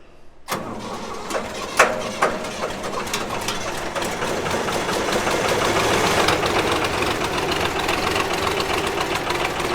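Diesel engine of a 1988 Ford 545C skip loader cranks with a sharp starter burst, then catches and runs with a steady, loud, knocking rumble that builds slightly over time, close up with no talking.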